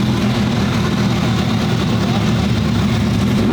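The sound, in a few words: supercharged Lamborghini engine idling while warming up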